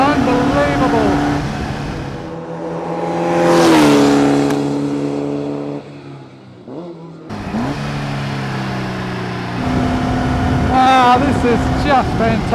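A Formula Vee race car engine drones loud and close while driving, rising in pitch as it revs, dropping through gear changes, and settling again, with some talking mixed in.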